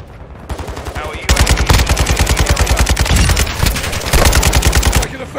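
Gunfire in Call of Duty Modern Warfare 2 multiplayer: loud, rapid automatic bursts of rattling shots, close and sustained, with a brief pause in the middle before another burst.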